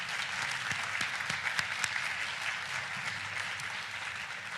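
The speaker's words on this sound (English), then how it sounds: "can we please give a warm round of applause to the MHS Marching Band" An audience applauds a school marching band, the MHS Marching Band, at a school district state-of-the-schools address; steady, dense clapping fills the whole stretch at moderate level with no talk.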